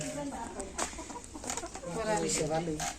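Backyard hens clucking in short repeated bursts close by, mixed with faint farmyard noise and a voice talking in the background.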